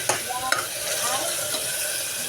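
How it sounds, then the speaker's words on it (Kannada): Onion and tomato fry in oil with a steady, dense sizzle, broken by a couple of sharp stirring clicks near the start. "ಎಣ್ಣೆಯಾಗನ ಫ್ರೈ ಆಗ್ಬೇಕು ರೀ."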